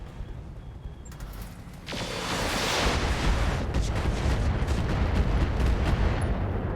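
Mech weapons firing on a Nidhogg in RogueTech, starting with a sharp crack that swells into a sustained roaring barrage of loud, rumbling gunfire and blasts.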